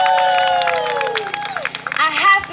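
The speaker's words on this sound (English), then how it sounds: "Give them a round of applause." A crowd at an outdoor political stump speech event claps and cheers briefly, with a scattered burst of applause and shouts rising at the end over a fading voice.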